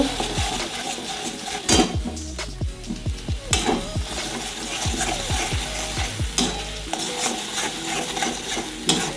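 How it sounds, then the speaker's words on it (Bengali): Spiny gourd filling fries in a pan with turmeric and salt, sizzling steadily close up while a spoon stirs and scrapes against the metal in repeated strokes. "একটু হলুদ দিয়ে দিচ্ছি, একটু নুন দিয়ে দিচ্ছি, দিয়ে এখন একটু ভেজে নেব।"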